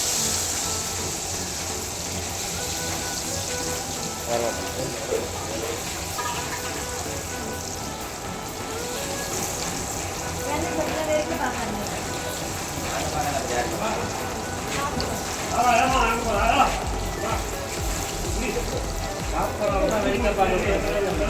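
Fish pieces coated in masala frying in a pan give a steady, fairly loud sizzling hiss with crackle that swells toward the end, heard under ongoing talk.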